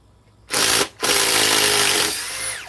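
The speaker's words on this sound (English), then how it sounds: "Sometimes I swear these impact drivers are too fast." DeWalt impact driver driving screws, heard close and loud alone: two bursts, a short one and then a longer hammering run that tapers off at the end.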